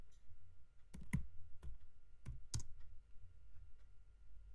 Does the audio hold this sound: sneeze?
no